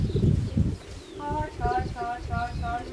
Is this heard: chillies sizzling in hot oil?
no